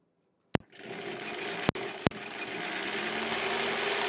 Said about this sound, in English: I'm going to start sewing at the side that I want to match up